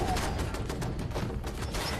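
Shotgun blasts in Fallout 76, a quick run of heavy, booming shots layered over dense game noise, close and loud for about two seconds.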